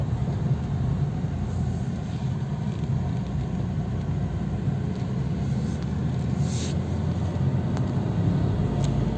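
Tata Tiago CNG car accelerating on a road, heard from inside as a steady low engine and road rumble with a constant moderate drone and no clear breaks.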